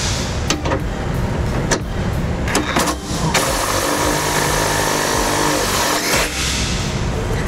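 An impact wrench drives trailer hitch bolts on a 2015 Ford Transit, firing in loud repeated bursts, then one longer continuous hammering run, close and without talk.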